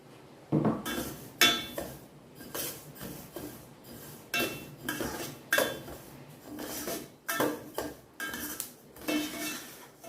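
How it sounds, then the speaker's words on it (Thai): White and black sesame seeds are dry-roasted together in a pan, heard as repeated scraping and clinking strokes of a utensil against the metal in an irregular rhythm, close and moderately loud, with no voices. "งาขาวงาดำคั่วพร้อมกันเลยค่ะ"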